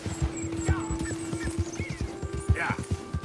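Rhythmic galloping hooves thud steadily from a horse in Red Dead Redemption 2, with a brief neigh near the end, over a low game hum while someone speaks briefly.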